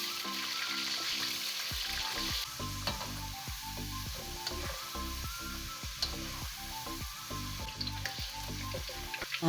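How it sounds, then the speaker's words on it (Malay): Potato pieces fry in hot oil, a steady loud sizzle with crackles and spits throughout, plus repeated clinks and scrapes of a utensil stirring them in the pan. "Minyak dah panas, masukkan ubi kentang tu ya."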